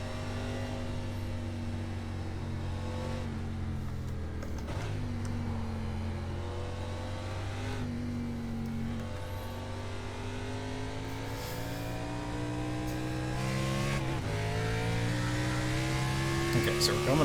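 A stock car engine drones on a slow lap at Barber circuit, its harmonic tone rising and falling steadily through gear changes and easing off, ending on a louder surge, with someone talking over it.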